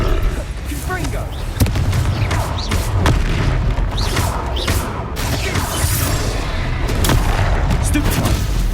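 Fiery Confringo spell explosions in the Hogwarts Legacy video game, a dense run of booming blasts and crashes with sharp impacts, loud and continuous throughout.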